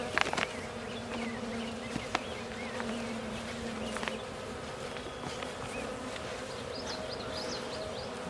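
Honey bees buzz steadily around an open backyard beehive during a spring inspection, a dense close hum with individual insects whining past near the ear, plus a few faint knocks.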